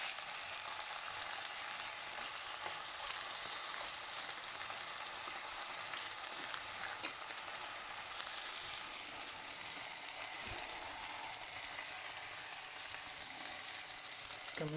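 Pork belly fries in hot oil with a steady, dense sizzle and crackle that fills the whole stretch evenly, close and continuous, broken only by a faint clink near the end.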